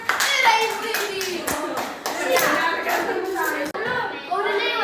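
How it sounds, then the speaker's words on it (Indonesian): A classroom of students claps their hands together, dense continuous clapping mixed with children's voices and chatter throughout, briefly dipping near the end. "Tepuk tangan."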